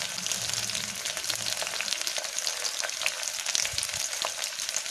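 Long-cut green chillies sizzle steadily in hot oil while making Tamil Nadu sambar, a close, continuous crackling fry with faint stirring and no voices.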